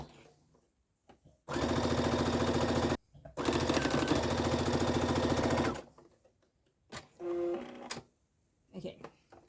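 A sewing machine stitching the tops of a homemade backpack-style lunch bag runs in two long, steady bursts up close, then starts and stops in shorter runs.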